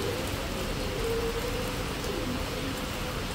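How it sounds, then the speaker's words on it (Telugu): Heavy rain pours steadily and close by during a road trip from Tirupati to Srisailam, a dense unbroken hiss with faint bird cooing somewhere beneath it. "ఒక రేంజ్లో పడుతుంది వర్షం అయితే."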